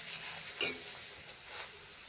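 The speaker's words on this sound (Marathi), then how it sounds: "तेल पण छान गरम झालेलं आहे बघा आपलं आता मस्त आपल्याला तळून घ्यायचं आहे" Sweet potato gharya frying in hot oil, a faint steady sizzle with a brief louder crackle and clink as a piece is stirred or dropped in.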